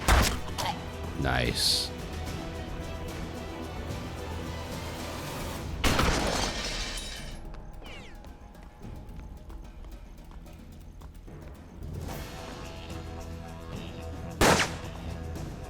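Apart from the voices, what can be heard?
gunshots from the video game Hard West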